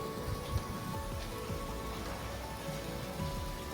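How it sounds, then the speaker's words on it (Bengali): Frying in a pan for a Bengali murighonto with fish head, a steady close crackling sizzle that holds evenly throughout. "এটা আমি একটু ভেজে নেব।"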